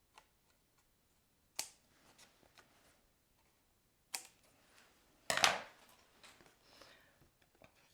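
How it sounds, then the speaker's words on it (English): Scissors trim excess card paper in a few quiet, crisp snips spaced several seconds apart, with near silence between them. "flip it over and snip off the excess."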